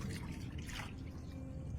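Water poured into a container holding soaked nata de coco and a spoonful of baking soda, a soft continuous trickle close by, steady and unbroken for the short moment with no talk.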